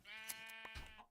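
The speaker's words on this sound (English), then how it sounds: "A sheep!" A single drawn-out sheep bleat with a wavering, nasal tone, faint and heard alone in a video game.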